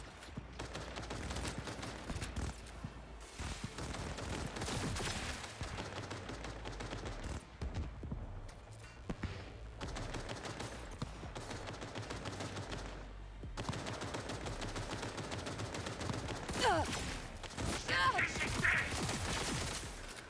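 Sniper rifle fire from the video game Cyberpunk 2077: Phantom Liberty, with repeated sharp shots over a loud, dense game soundtrack and battle noise, and a voice talking at times.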